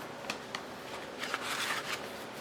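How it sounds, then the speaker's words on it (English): Scissors trimming a paper file folder pocket, giving quick, close, crisp snips and a short papery rustle, loud against a quiet room. "Now we need to trim this one too"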